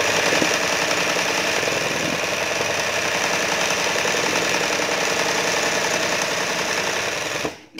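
A sewing machine running on a replacement motor hums steadily and loudly at an even pitch for several seconds, then stops abruptly at the end.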